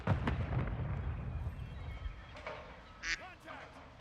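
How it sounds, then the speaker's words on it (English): A duck call quacks once in Call of Duty Warzone: a single short nasal honk near the end, following a stretch of busy game noise. "Was that a duck call? It keeps sounding like it."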